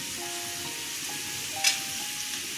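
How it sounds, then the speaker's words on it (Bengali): Cashew nuts dropped into hot oil with onion and green chillies for egg korma, giving a soft, steady frying sizzle with a brief brighter crackle partway through; no talking. "এবার কাজু বাদামগুলো দিয়ে দিচ্ছি।"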